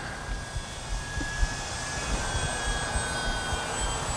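A Durafly Ugly Stick V2 RC airplane flies overhead, its steady high-pitched engine whine droning throughout over a constant rushing of wind, with no voices.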